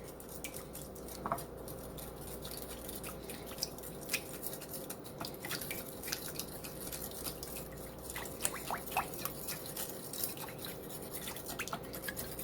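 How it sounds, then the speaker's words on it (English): A fork mixes honey into a sauce for pork chops and apples, giving soft wet clicks and small taps against a bowl at an uneven pace over a steady low hum, close and fairly quiet. "Just make sure all that honey is mixed in there."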